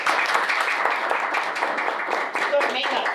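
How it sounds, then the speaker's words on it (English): An audience at a school district board meeting gives a round of applause for long-serving teachers, a steady, moderately loud clapping from a modest crowd with some talk mixed in. "Give a round of applause."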